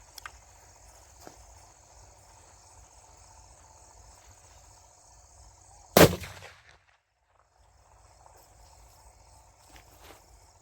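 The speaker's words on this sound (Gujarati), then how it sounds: "આ પાઇપમાં પૂતળી બોમ્બ ને આ છે ધૂંફાણી ને આપણે ફોડવાનો છે ફટાકડો" A puthli bomb firecracker packed inside a pipe on a village farm goes off once with a single sharp, loud bang and a brief echoing tail, set against steady outdoor cricket chirping.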